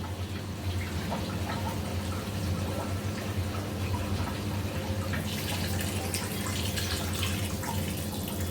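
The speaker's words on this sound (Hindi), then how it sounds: "अब हम उसमें गर्म पानी डालेंगे।" Hot water pours steadily into a pan of fried desi chicken cooked village style, a continuous close splashing wash with a low hum beneath and no talk.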